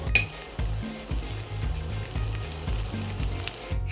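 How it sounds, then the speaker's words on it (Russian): Sliced garlic fries with softened onion in vegetable oil in a pan, a steady close sizzle with occasional stirring scrapes and background music beneath. "Отправляем к размягченному луку."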